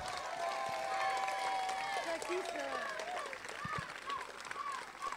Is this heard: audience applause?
yes